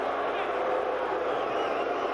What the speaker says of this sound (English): You have to love these crowds in these small gyms.